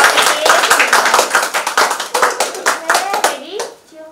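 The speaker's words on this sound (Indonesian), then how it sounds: "Tepuk tangannya dong, Tante" Hand clapping at a Batak wedding, a run of close, sharp claps in an uneven rhythm with voices mixed in, trailing off near the end.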